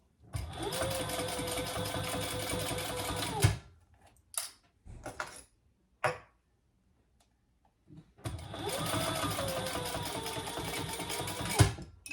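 A sewing machine stitching thin vinyl for a fish pouch runs in two loud, close bursts of rapid mechanical whirring, separated by a quiet gap with a few faint handling sounds.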